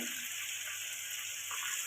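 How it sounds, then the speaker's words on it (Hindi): A little water goes into masala frying in a pan of ginger-garlic paste and spices, producing a steady, hissing sizzle that stays even and close throughout. "थोड़ा सा पानी डालेंगे"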